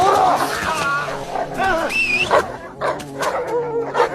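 A guard dog let loose from an iron chain barks, snarls and whimpers in a frenzied attack, loud and close, with shouting voices over the commotion.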